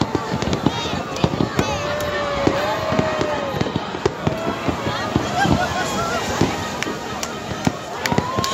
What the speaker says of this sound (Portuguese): Que beleza essa queima de fogos.